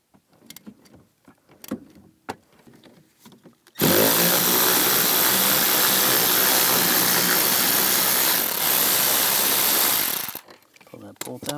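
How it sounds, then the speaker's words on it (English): A power tool fitted with an 11mm socket spins a bolt off a 2010-2017 Chevrolet Equinox, a loud, steady whirring burst of several seconds, with scattered clicks and handling noises before and after. "Using a 11mm socket, take this bolt off"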